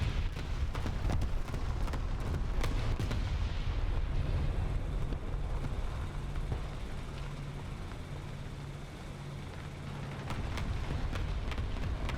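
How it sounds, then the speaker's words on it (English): Artillery strikes land in War Thunder as a string of heavy, booming explosions, several sharp blasts in the first seconds, then a rolling low rumble that eases off and swells again toward the end. "We'll call artillery on him."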